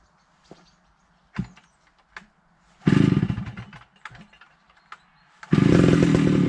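A chainsaw fitted with a sawmill attachment and running on bio chain oil sputters with a few pulls and knocks, then roars loudly up close, dies back, and roars again.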